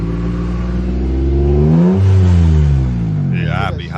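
A car at a dealership revs up as the gas is hit, a strong engine surge rising and falling over a few seconds, loud and close, with people talking over it.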